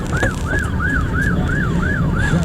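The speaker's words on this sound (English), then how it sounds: "We're being drowned out by the sirens" A wailing emergency vehicle siren cycles rapidly up and down, loud and close, over rumbling city traffic noise in New York on September 11, 2001.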